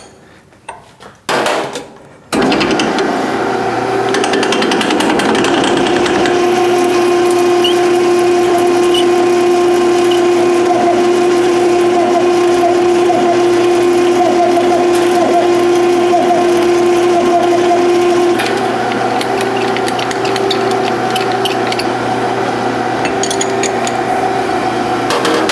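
A lathe cuts 12L14 steel with a steady, droning whine and buzzing tonal hum that runs continuously after a brief clatter at the start.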